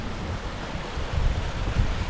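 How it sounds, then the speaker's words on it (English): A tiny waterfall spills through a little stone culvert on a water diversion channel near a reservoir dam, giving a steady, close rushing wash of water with some wind buffeting and a slight swell in loudness partway through. "Tiny little waterfall just there"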